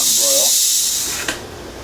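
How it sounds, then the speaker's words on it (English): A pressure cooker vents hard during an instant pressure release while eggplant Parmesan sauce is being made, a loud steady hiss that slowly eases with a brief clatter near the end. "Do an instant pressure release. Open the window here to let that steam out."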